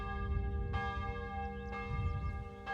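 Monastery bell calling the monks to the offices, a steady sustained tolling with a few fresh strokes over a low rumbling background, heard at moderate distance without speech.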